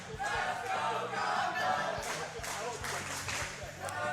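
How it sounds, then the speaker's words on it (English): A crowd at a LAN gaming event cheers and shouts in a continuous, fairly distant roar, with scattered claps mixed in. "The whole crowd here is cheering for Gumbo."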